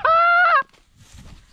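A single loud, nasal honking quack, close by, lasting about half a second, followed by quiet background noise.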